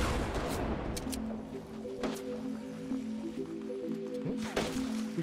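Gunfire in a Fortnite battle royale match comes as a few sharp cracks under a steady din of game sound, with a sustained tonal hum running through and a close shot near the end.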